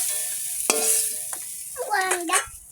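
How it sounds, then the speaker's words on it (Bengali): Singi fish fry in a hot pan, a soft sizzling hiss broken by sharp clanks and scraping of a spatula against the metal, with a short whining squeal near the end. "শিঙি মাছগুলো ভাজা হয়ে গেছে"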